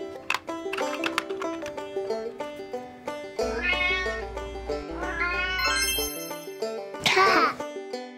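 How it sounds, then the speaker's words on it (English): A farm cat meows repeatedly, with short calls first and then longer, rising, wailing meows, clear and close throughout, alongside some other brief sounds. "Cat."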